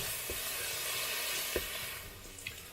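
Filling for crab rangoon and egg rolls being mixed with onion powder and garlic powder, a faint steady hiss with a few soft thuds and scrapes of stirring, quiet and without talk.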